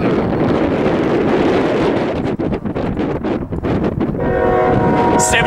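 Loud rumbling of a westbound double-stack freight train led by a GE Evolution locomotive passing on Cajon Pass, heavy wind buffeting the mic, rhythmic clatter of cars, and a horn sounding near the end.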